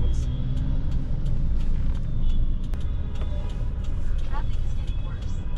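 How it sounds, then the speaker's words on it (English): Busy rush-hour road traffic in Bangladesh, a dense continuous rumble of cars and buses with scattered horn toots, heard from close by under ongoing conversation. "Traffic is getting worse."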